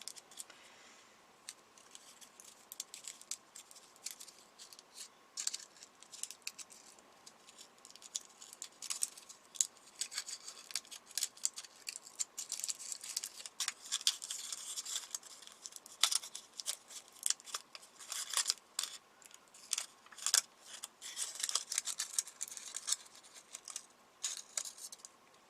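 Scissors snip through a chocolate wrapper in a long run of small, crisp cuts and rustles, close and fairly quiet, with an even, unhurried rhythm and no talking.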